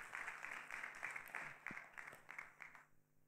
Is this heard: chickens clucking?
no